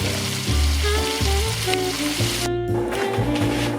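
Garlic frying in a pan, a continuous loud sizzle close by, with a low, pulsing musical background under it and no talking.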